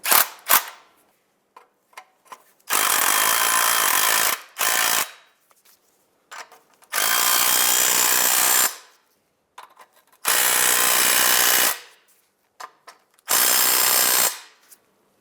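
Power tool tightening lug nuts on a 2007-2015 Mazda CX-9, four loud bursts of rattling impact hammering, each lasting one to two seconds, separated by short clicks and quiet gaps.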